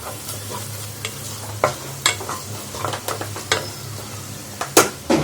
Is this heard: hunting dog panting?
no